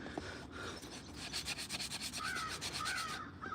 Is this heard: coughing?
no